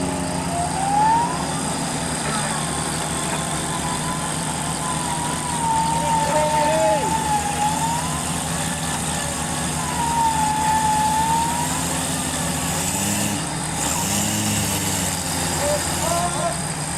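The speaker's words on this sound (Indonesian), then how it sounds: "Kayaknya coplok deh, jadi sangar banget. 4000 cc 6 silindernya keluar semua suaranya tuh, keren." A Jeep's 4000 cc six-cylinder engine roars through a loose, detached exhaust while offroading on slippery riverbank mud, a loud continuous rumbling drone with rising and falling revs.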